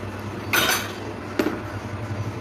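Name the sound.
stirring payasam in a cooking pot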